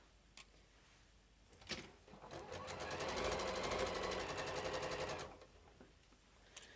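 Electric sewing machine stitching a project bag seam, starting after a few clicks and running in one steady, rapid whirring burst of about three seconds before stopping, close and fairly quiet.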